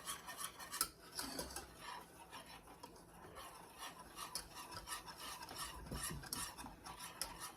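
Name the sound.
stirring chocolate pie filling in a pot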